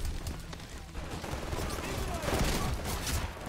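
Shotgun blasts in the online shooter Titanfall, a dense run of loud gunfire cracks and bursts mixed with other weapon noise throughout, a voice talking over the battle.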